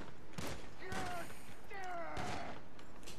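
Gunfire in the video game GTA Online crackles in a few quick bursts, fairly faint and mixed with game noise and low voices talking.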